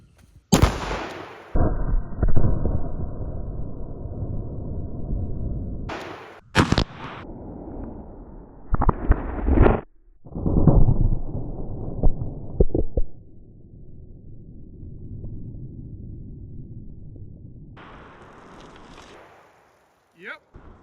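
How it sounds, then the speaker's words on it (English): A 12 gauge shotgun fires sabot and rifled slugs at about 20 yards outdoors: several loud, sharp blasts with ringing tails, spaced apart, with people talking between the shots. "we're gonna take the 12 gauge, we're gonna move into about 20 yards, and we're gonna see if we can blast these things"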